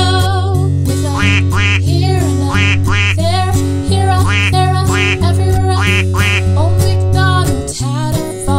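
A loud, rhythmic series of cartoonish duck quacks in a children's Old MacDonald farm nursery rhyme, repeated steadily over a sustained musical backing with no singing in this stretch.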